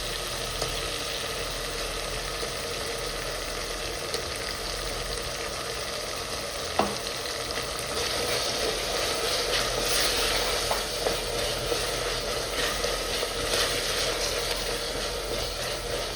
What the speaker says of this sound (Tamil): இஞ்சி பூண்டு நல்லா வதங்கிச்சு